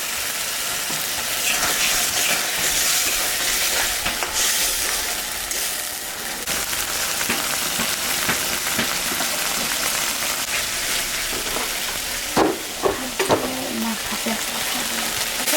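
Spices, chopped tomato and green chillies fry in a pan for a pomfret fish curry, giving a steady broadband sizzle with occasional stirring scrapes and clatter, fairly close and continuous throughout.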